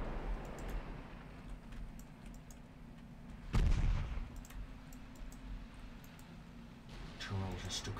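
Naval gunfire in the Ultimate Admiral Dreadnoughts battleship game, a single heavy boom midway through that stands out over a low rumble, with someone talking near the end.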